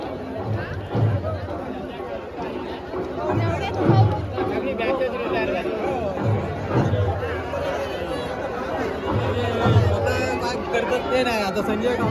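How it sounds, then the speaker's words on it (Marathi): Dense crowd at a village jatra for a deity's palanquin procession, with steady chatter and babble close around, footsteps and occasional thuds, and individual voices rising over the din. "आता बघा कसली गर्दी असा"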